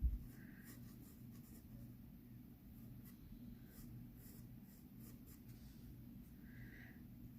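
Pencil drawing on paper for a still life study, soft continuous scratching and light strokes close by, quiet over a low steady hum.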